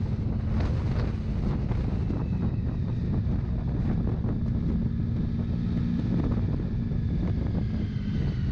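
Strong wind buffets the microphone on an exposed coastal headland, a constant loud roar with gusty rumbling throughout and no other sounds.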